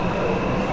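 A crowded subway train in a Chinese metro station gives off a steady, loud rumble at close range, a continuous broadband roar with no pauses.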